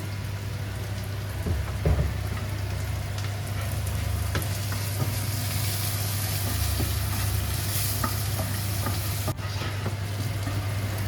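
Sliced onions sizzling in a pan, a continuous soft crackling hiss with occasional light stirring clicks, steady and close over a low background hum.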